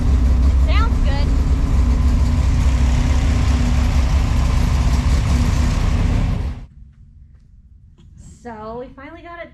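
A V6 engine in a Chevette idling loud and close with a choppy, lumpy cam rhythm for about six seconds before cutting off, followed by brief talk.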